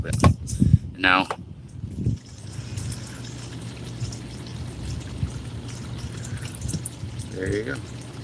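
Condensation water from an air conditioner drains out of a pipe on a 19 ft Tommy Bahama Relax Edition Airstream camper, a steady low trickle and splash running beneath brief voices at the start and a moment near the end.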